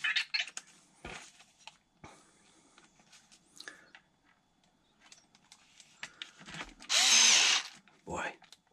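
A Ryobi cordless power drill drives long screws while fitting a HoBao MTX pinion, giving a couple of close, loud whirring bursts between quieter clicks and handling noise.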